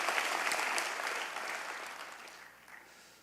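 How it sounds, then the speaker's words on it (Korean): A church congregation claps during a Sunday service, a fairly faint burst of applause that is strongest at the start and tapers off over a few seconds. "우리 박수 한번 해야 돼"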